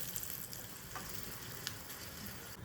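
Tempering of chillies, sesame seeds and neem leaves being sautéed in a pan for jowar dhokla, a soft steady frying crackle with faint stirring clicks, quiet and close, no voices.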